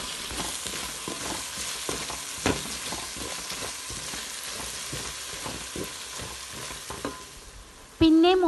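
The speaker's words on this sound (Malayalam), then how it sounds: "1 ടീസ്പൂൺ മുളക് പൊടി, 1 ടീസ്പൂൺ മട്ടൻ മസാല, 1/4 ടീസ്പൂൺ മഞ്ഞൾപ്പൊടി എല്ലാം ഒന്ന് മൂപ്പിച്ചെടുക്കാം" Chili powder, mutton masala and turmeric roasting in a pan for a goat head curry, with steady soft sizzling and repeated scraping stirs throughout, ending in a brief louder burst.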